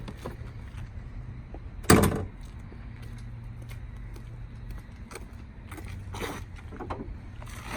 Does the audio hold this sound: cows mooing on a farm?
no